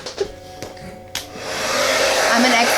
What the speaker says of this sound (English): Use a blow dryer as well.